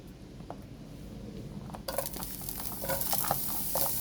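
Onion dropped into hot cooking oil begins sautéing, with a sizzle that jumps up sharply partway through and settles into steady, close frying crackle with light stirring.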